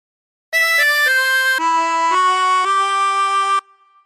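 A chromatic harmonica plays a phrase of the Star Spangled Banner alone and loud: six sustained, reedy notes stepping through the melody over about three seconds, then cutting off.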